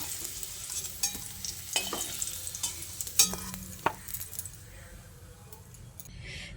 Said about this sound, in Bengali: এবার আমি ডাঁটার আলুটাকে তেলটা ছেঁকে তুলে নিচ্ছি।